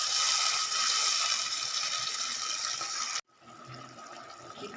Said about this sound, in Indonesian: Kita beri tambahan sedikit air